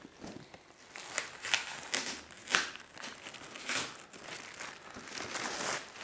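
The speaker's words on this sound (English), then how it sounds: "Let's take her out the cellophane." Cellophane wrapping crinkles and crackles close up as a Hot Toys 1/6 scale Hoth Princess Leia figure is unwrapped, in irregular bursts of sharp rustling with brief louder crunches.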